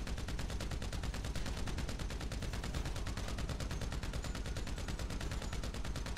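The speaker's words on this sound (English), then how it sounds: "I didn't even see where he was like shooting me from." Gunfire in Grand Theft Auto V rattles continuously as rapid, evenly spaced automatic shots, loud and dense throughout, with no talking over it.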